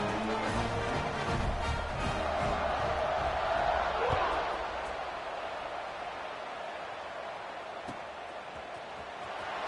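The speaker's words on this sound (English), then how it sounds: "this crowd is feeling themselves after that last drive" Football stadium crowd at a Michigan vs Georgia Tech game, a broad sustained roar of cheering that swells around the middle and eases slightly toward the end, steady and loud throughout.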